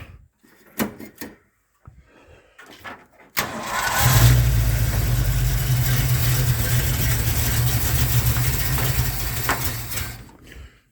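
A hot rod engine cranks after a few clicks and knocks, then catches and runs at a steady, loud rumbling idle up close before cutting off at the end.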